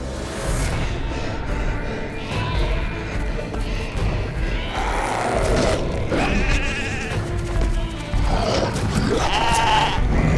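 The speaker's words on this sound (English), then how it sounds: "150 head of sheep, small ones and big ones and lambs" A flock of about 150 sheep, including lambs, bleating repeatedly over a dense low rumble, several overlapping cries rising and falling at mid distance with a busy background.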